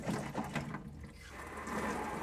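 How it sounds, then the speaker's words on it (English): Water streams steadily from a sink tap whose head can be switched to a shower nozzle, making a soft, continuous rushing hiss close by at low volume, with no speech. "You'll get a jet of water in one direction."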